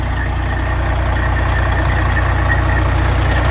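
Steady, close diesel idle from a 1991 Peterbilt truck, an even low throbbing rumble with no change in pitch and no voices.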